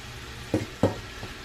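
Red beans with Cajun seasoning and pepper flakes stirred in a pot, two distinct scraping swirls of a spoon over a faint background sizzle, close and brief, with no talking.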